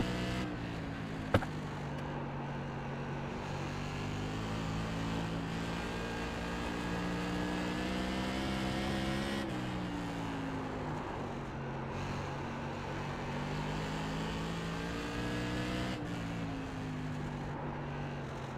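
Modified race cars lap a track in a racing video game, their engines droning steadily and close throughout with shifting pitch as they accelerate and ease off, plus one brief click near the start.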